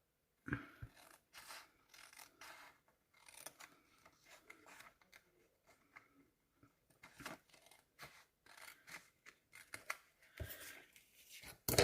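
Scissors cut paper for a simple art collage, quiet close snips and crisp slicing sounds in irregular short bursts with light paper rustling between them.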